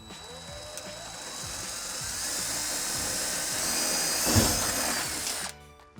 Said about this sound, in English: I'm gonna drill the rest of my holes